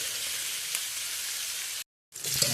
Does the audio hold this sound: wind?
no